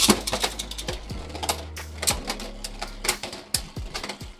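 Beyblade spinning tops launched into a plastic stadium, clattering and colliding in a dense run of sharp, rapid clicks and scrapes, close and fairly loud, with no voices.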